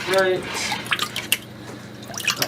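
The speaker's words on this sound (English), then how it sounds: "then you get rid of the excess water" Excess water being poured off the mould during traditional washi papermaking in Gokayama, a splashing, dripping run of liquid at close range with people talking over it.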